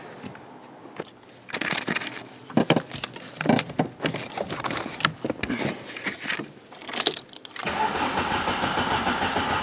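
A 1991 Volkswagen Jetta 2.0L 16V with a no-start fault cranks in uneven bursts, the starter whirring and the engine catching briefly without firing, then a steady hissing hum follows near the end.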